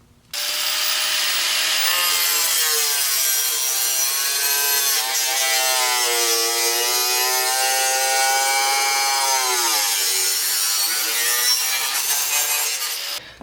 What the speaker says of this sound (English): a grinder with a diamond bit to just grind it up here to give me my straight cuts